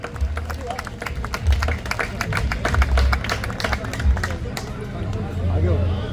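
An audience at a Hindu rally claps steadily to welcome a team onstage, a dense patter of hands mixed with crowd murmur and a voice speaking over it.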